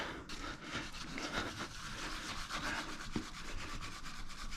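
A brush scrubs the wheels of a GMC Sonoma pickup, making a continuous, close, rhythmic rubbing with quick repeated strokes.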